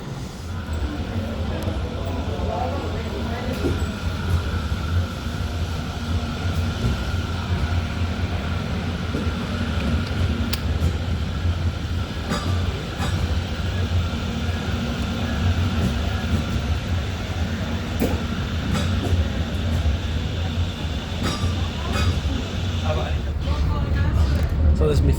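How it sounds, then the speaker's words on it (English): Inside a German U-Bahn subway train during a ride, a steady rumbling hum of wheels and motor with faint rattles, continuous throughout, with a voice talking over it at times. "So this is my first ride on a German U-Bahn system."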